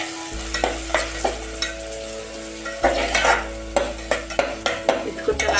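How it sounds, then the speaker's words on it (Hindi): Turmeric and chili being stirred into green pea dal in a pan over low heat, a spoon scraping and knocking in a repeated rhythm over a low frying sizzle and a steady hum, close by, without talk. "अब इसको हम चलाएंगे।"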